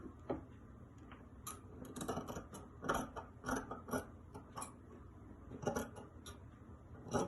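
Scissors snipping through dress fabric along a marked line, a run of crisp irregular cuts close by with short pauses between them and no talking.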